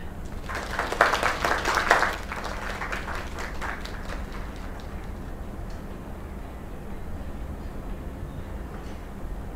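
In the video game Lake, a short burst of applause and cheering swells for a couple of seconds, then thins into scattered claps over a steady low background hum.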